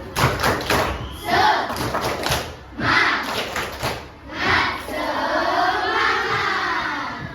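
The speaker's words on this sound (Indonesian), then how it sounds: "tepuk semangat" Children's voices chant together in a rhythmic classroom clapping chant, punctuated by bursts of group clapping, lively and close, with a sustained chanted ending.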